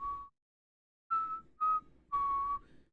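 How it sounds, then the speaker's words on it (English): A person whistles the Godzilla theme, clear and close: one short note, a pause, then a few longer sustained notes. "I'm whistling the Godzilla theme because I don't know the King Kong theme."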